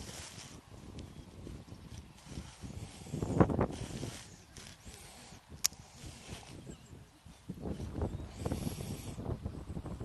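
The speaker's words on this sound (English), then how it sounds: "It's very, very windy here." Strong wind on a beach buffeting the microphone, producing low rumbling gusts and blasts that swell and fade, with surf noise in the background and no clear talking.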